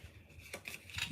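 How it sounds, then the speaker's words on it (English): Scissors snip through paper during a paper-crafting session making tags, giving a few brief, close crisp cuts over quiet room noise. "Where's a pair of scissors so I can fix it?"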